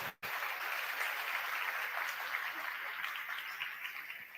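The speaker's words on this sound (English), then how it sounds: "We can give a round of applause." Steady applause from an audience, a dense wash of clapping that starts abruptly and holds evenly throughout.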